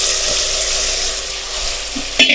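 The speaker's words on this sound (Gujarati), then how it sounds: "રાઈ જીરું કકડી જાય મીઠો લીમડો નાખી દીધો છે। હવે અને સુધારેલું શાક આપણે તેમાં નાખી દઈશું" Chopped brinjal goes into a sizzling tempering of mustard seeds, cumin and curry leaves, giving a loud, steady frying hiss close up. A sharp utensil clatter comes near the end.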